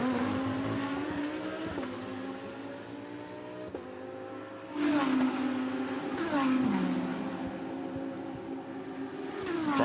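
DTM race cars at the Norisring street circuit, engines droning loud and close, with rising and falling pitch sweeps as cars pass and accelerate, a sharper surge midway, no talk.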